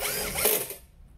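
SfunPro 16V compact cordless drill driving a small screw, a brief whirring mechanical burst about a second long that cuts off and fades to quiet.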